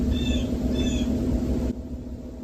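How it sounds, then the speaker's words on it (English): A bird calls outdoors with two short squawking notes, moderately loud, over a steady low rumble of background noise that drops away near the end, with no speech. "Like, did you hear that bird?"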